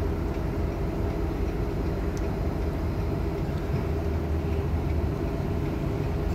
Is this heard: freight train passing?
yes